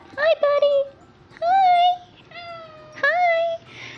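A cat meows several times in a room workspace, with drawn-out, rising and falling calls spaced across a few seconds, loud and close, and no talking between them.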